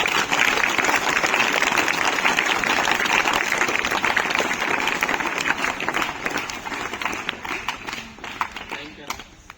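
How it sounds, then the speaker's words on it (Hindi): Students and guests in a school hall applaud a former Naib Subedar after his talk, dense steady clapping filling the room for nearly ten seconds before gradually thinning out at the end. "उनके लिए भी अंतिम तालियां"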